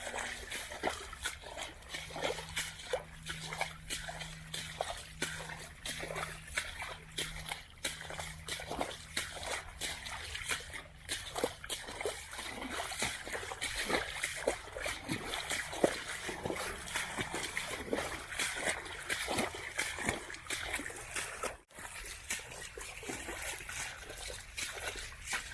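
A hiker's feet trickle and splash through shallow water along the Ocean to Lake Trail in Florida, producing a long, regular series of nearby sloshing steps.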